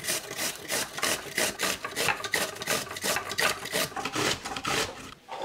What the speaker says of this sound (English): I'm gonna just grate half a cucumber in a bowl.